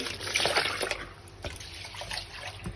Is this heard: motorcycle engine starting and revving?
no